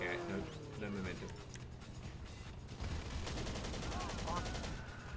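Gunfire in the video game GTA V Online, dense rapid shots and bursts filling the scene, loud and close amid game noise.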